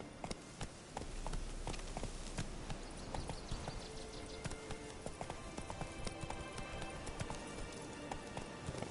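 Hoofbeats of Geralt's horse Roach running in The Witcher video game, a steady rapid clip-clop galloping close up over a dense, busy background throughout.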